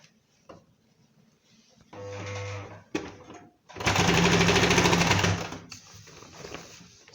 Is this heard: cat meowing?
no